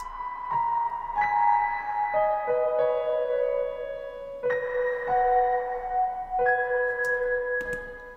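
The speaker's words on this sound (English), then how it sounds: "And then I layered it with the piano with some chorus on it." Layered piano notes with a chorus effect play a slow melody, their sustained tones shimmering and slightly doubled, with overlapping chords changing every second or two.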